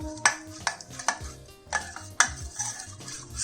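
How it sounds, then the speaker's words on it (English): A spoon creams hung curd with gram flour in a bowl, giving repeated sharp scrapes and clinks against the bowl in an uneven stirring rhythm, close and clear with no talk. "Let's cream this till the gram flour becomes lump free."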